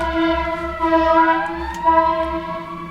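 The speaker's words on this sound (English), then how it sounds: "Just get to listen to stupid fucking ambulances and fire trucks all day." Sirens from ambulances and fire trucks drift through an open window in the city, several sweeping tones overlapping and gliding up and down over a steady low hum, moderately loud and continuous with no talking.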